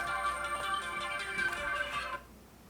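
A phone rings, its bright electronic tone repeating steadily for about two seconds before cutting off abruptly, leaving near silence.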